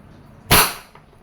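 A single sharp crack from a Wingun 708 airsoft revolver fired double-action, close and loud with a quick decaying tail, alone against quiet background.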